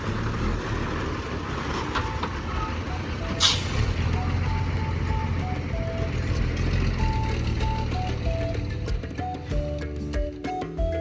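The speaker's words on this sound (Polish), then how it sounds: "Lokalny autobus." A local bus in the Comoros idles close by with a steady low engine rumble, a brief hiss like an air brake release near the start, and faint intermittent beeps over traffic noise.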